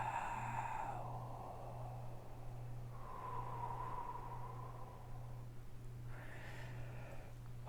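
A soft, drawn-out breathy yawn rises and fades in a quiet room, followed by another airy breath, close and gentle.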